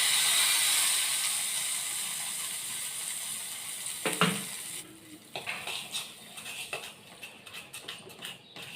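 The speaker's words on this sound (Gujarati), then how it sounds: "રાઈ તકડે એટલે સહેજ હિંગ અને લીમડાના પાન અને ચટણી ઉપર સહેજ હળદર નાખી દઈશું અને એના ઉપર આપણે વઘાર કરી દઈશું" Mustard seeds, asafoetida and curry leaves tempering in hot oil poured over chutney: a close, bright sizzle that fades into scattered sharp crackles and pops.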